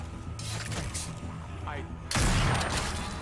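A single loud gunshot bursts out midway through a scene in The Walking Dead: A New Frontier, followed by a sustained boom and rumble, with dialogue and background sounds before it.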